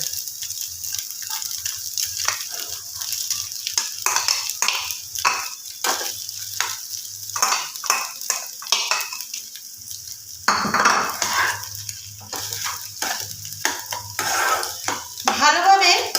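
Egg frying with mashed boiled potato in a pan for a potato-egg puli pitha: repeated rhythmic scraping and stirring strokes over a constant sizzle, close up, with a louder burst of frying partway through.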